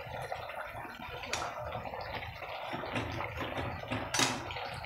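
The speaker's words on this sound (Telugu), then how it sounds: "ఇందులో ఇప్పుడు మనకు తగినంత నీళ్ళు వేసుకోవాలి, మరీ ఎక్కువ వేయకూడదు" Water is poured into a pot of Telugu-style fish curry, a splashing, gurgling trickle with a few louder splashes near the end, close by and alone.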